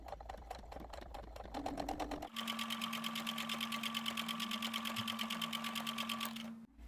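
A sewing machine stitches a 0.5 cm seam on a beret, running in a steady, rapid, even whir for several seconds after a short quieter start, then stopping; it is close and alone, with no talking.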